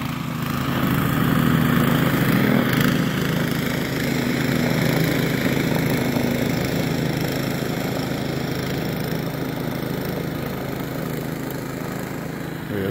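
Snow blower engine running steadily through snow, a loud continuous droning hum close by, holding even for the whole stretch with no voices.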